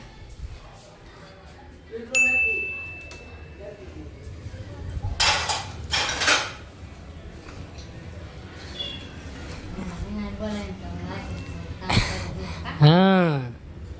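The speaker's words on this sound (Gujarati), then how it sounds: "મમ્મી જો વાસણ ધોવે છે" Dishes being washed by hand at home, with scattered clinks and clatter of pots and utensils plus splashing, under intermittent talking nearby and a brief whistle-like tone.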